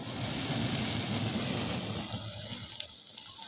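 Water is poured onto burning coals to douse them, producing a loud, steady broadband hissing rush that thins out and fades toward the end.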